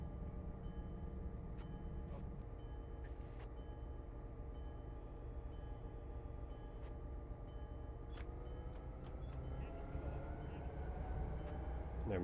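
In the Train Simulator 2019 game, a train begins reversing after its brakes release. A low, steady engine drone plays, then a rising motor whine swells toward the end, all fairly quiet.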